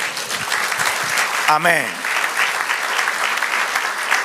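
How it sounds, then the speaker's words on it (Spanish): A church congregation at a Spanish-language service claps steadily throughout, a loud, continuous wash of applause while a voice calls out briefly in the middle. "Dale aplauso al Señor."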